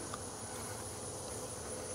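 Honeybees in an opened hive, some dead among the living, give a steady, low, continuous buzzing hum that stays faint and even throughout, with no talk.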